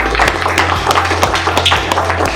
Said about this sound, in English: Clap, you got to clap.